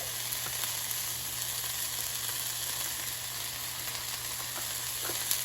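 Arugula sautés in a pan seasoned with salt, pepper and garlic powder, giving a steady, even sizzle that carries on unbroken with a few faint clicks and no talking.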